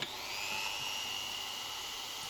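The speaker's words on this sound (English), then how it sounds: "The next step is to drill some pilot holes for these access holes so you can get hold of those button head screws." Hand drill boring pilot holes through a jig into 3D printer frame parts, a steady high whine held for about two seconds with no talking.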